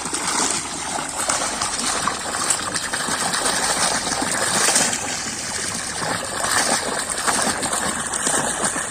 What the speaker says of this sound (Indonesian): Ini air langsung dari sungai.